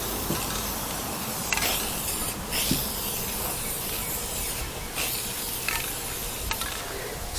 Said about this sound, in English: Spray, the paint's blowing right back on me.